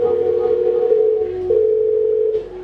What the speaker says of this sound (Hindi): मैं अभी अपने बेटे को फोन लगाती हूँ